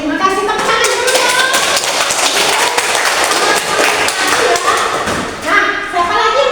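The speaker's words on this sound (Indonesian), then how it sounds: "terima kasih tepuk tangan dulu ya" Students in a classroom clap during a lesson, a scattered patter of hand claps and thumps mixed with children's chatter, loud and close throughout.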